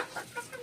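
Chickens cluck briefly and faintly inside a poultry farm, with a few short calls close together.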